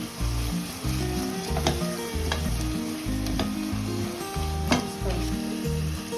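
Tomato paste and grated garlic fry in hot palm oil for a chicken stew, giving a steady close sizzle broken by occasional sharper pops, with a low rhythmic rumble underneath and no talking.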